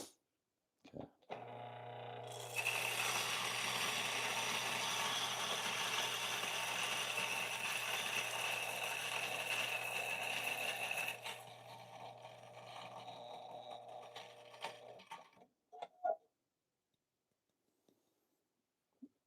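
An Ascaso H64 coffee grinder works through a load of beans, a steady loud mechanical whir lasting about ten seconds, then a lighter grinding tail and a few small clicks and taps before it falls quiet.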